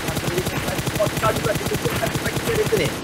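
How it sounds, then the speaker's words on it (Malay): Automatic gunfire aimed at a vehicle during a PUBG Mobile esports match, a steady rapid stream of shots running throughout, loud and dense, with game sound and faint commentary underneath. "Marsa cuba menembak kenderaan itu supaya tidak dapat digunakan pakai"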